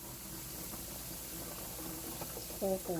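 Water is poured steadily into a container to make a gallon of mixture for a home-cooked dinner. It is a continuous, fairly quiet liquid rush, with a voice briefly heard near the end.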